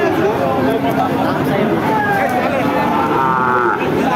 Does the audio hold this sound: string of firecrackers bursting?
no